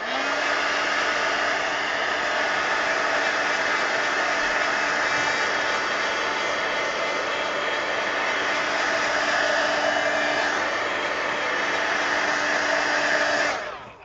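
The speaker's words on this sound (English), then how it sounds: "let me hit it with the heat gun" A heat gun blows steadily over a coloring book page to dry ink, a loud, continuous close whooshing roar lasting several seconds before cutting off at the end.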